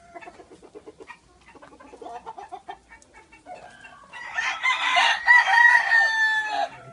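At a gamecock breeding farm, soft clucking chatter from a chicken, then a speckled rooster crows loudly close by, a long drawn-out call that dominates the end.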